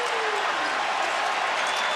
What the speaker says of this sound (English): The crowd is screaming.